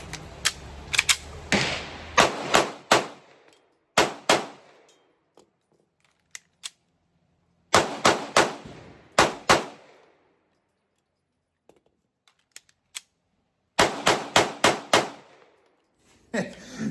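Shots ring out from a Canik Taran Tactical Combat Edition 9mm pistol, loud sharp reports fired in quick strings of several shots, separated by pauses with faint handling clicks during a magazine change.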